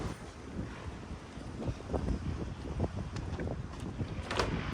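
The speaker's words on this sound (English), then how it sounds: "It's also windy." Steady wind buffeting the microphone, a continuous low rumble with gusty swells throughout.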